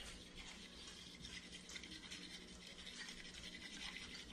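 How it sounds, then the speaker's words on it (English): Matcha is whisked with water in a quick, flicking wrist motion, producing a faint, rapid, scratchy swishing that runs steadily throughout with no talking. "this is where we start to whisk it. We're going to whisk it like this"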